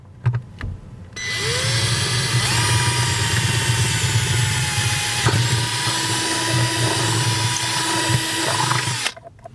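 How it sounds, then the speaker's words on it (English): A power drill whirs loudly and steadily at close range for several seconds, spinning up, grinding through a car firewall with a small pilot bit, then stopping. "we're going to be using a smaller bit to drill a pilot hole into the firewall"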